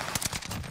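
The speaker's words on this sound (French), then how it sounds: "Merde, je tire sur Hichem." Rapid gunfire in Call of Duty: Warzone Pacific: a quick crackling burst of several close shots packed into under a second.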